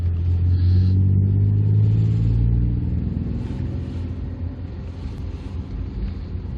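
A 1982 Ford Capri 2.8 Injection drives along a road, its engine a steady low rumble heard from inside the cabin that eases slightly as it slows, with no talk over it.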